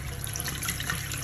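A bathroom sink tap runs water in a steady, close, continuous hissing stream with no pauses.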